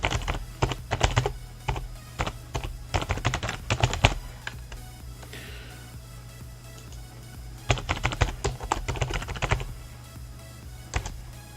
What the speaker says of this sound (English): I'll just type it out for you.